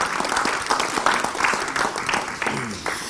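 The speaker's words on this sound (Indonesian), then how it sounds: "tepuk tangan dong buat Peggy dong." A studio audience breaks into sustained applause at an Indonesian Islamic TV show, a dense wash of clapping with some crowd noise mixed in.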